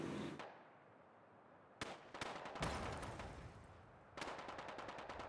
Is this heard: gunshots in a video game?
yes